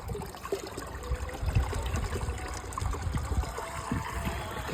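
A water tank fills with a close, bubbling trickle and splash, an uneven stream of gurgles and small spatters running on continuously with no voices.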